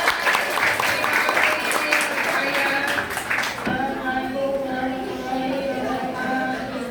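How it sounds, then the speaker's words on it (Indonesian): Applause from the audience at a primary school farewell and thanksgiving ceremony for sixth-grade pupils, loud and dense through the first half. It then thins as a voice takes over with music or tones underneath. "Beri tepuk tangan yang meriah"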